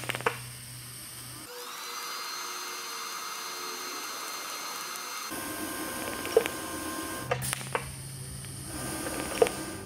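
A TIG welding arc runs through a gas lens kit with a number 12 cup and shielding gas near 30 CFH, giving a steady close buzzing hiss that stops and restarts, with small clicks and no talking.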